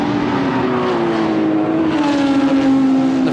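GT race cars at Lime Rock, a Ferrari and Porsches among them, scream past in a loud, continuous engine roar whose pitch slides down and then climbs again as the pack goes by.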